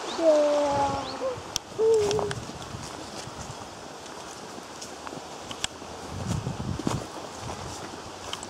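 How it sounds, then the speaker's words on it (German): Bird calls in a conifer wood in the Black Forest near Furtwangen, Germany: a couple of clear, tonal calls early on, then quieter scattered sounds over a steady outdoor hiss, with no talking. "Vögel."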